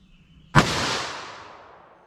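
A single sharp revolver shot of .327 Federal from a 4.2-inch barrel cracks out of near silence, loud and close, then trails off in a reverberant decay lasting over a second.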